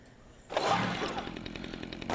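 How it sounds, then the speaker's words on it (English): Chainsaw revving in the video game Dead Rising 2 Case 0, a loud sustained motor whine that starts abruptly after a quiet moment and keeps running steadily, swelling again at the end. "Chainsaw."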